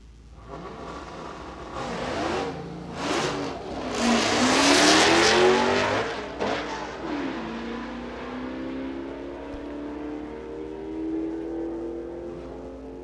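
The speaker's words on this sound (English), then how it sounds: "you hear somebody working the clutch and the shifter as they head down track" Drag race car launching down the track, engine revving hard as the clutch and shifter are worked through rapid gear changes, loud and near, the roar rising and falling before fading into the distance.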